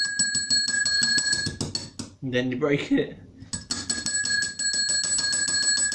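A ring-for-service bell rings in quick repeated dings, breaks off for a spoken line midway, then resumes its rapid bright chiming up close.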